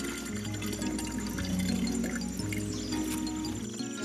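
Water poured from a watering can onto a plant in a garden, a continuous splashing trickle lasting a few seconds before cutting off, with faint background music underneath.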